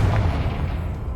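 Confringo explosion spell going off in Hogwarts Legacy near a witch's tomb, a single loud, low, rumbling blast that fills the short moment without any talk.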